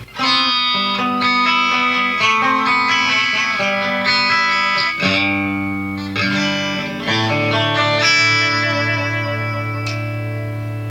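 Heavily distorted electric guitar through a Marshall JVM210 tube amp in red mode, with split pickup, plays chords and sustained notes with a thick, saturated amp tone, loud and close, with no voices.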